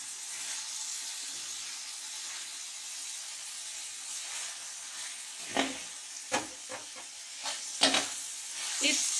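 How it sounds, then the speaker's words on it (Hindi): Fried okra is stirred into a masala in a pan. A soft steady sizzle runs throughout, joined in the second half by several scraping stirs from a spoon. "ये फ्राई हुई भिंडियाँ हम इसमें ऐड कर देंगे। अच्छे तरीके से इसको मिक्स कर लें।"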